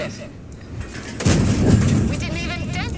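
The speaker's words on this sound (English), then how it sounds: "I put some shots into OE." A tank cannon in a tank video game fires a single heavy boom partway through, followed by a lingering rumble over a continuous background of game noise.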